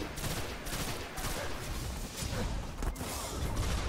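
Pulse rifle fire in the Destiny video game, steady rapid bursts of shots mixed with explosions and crashing battle noise, loud and continuous throughout.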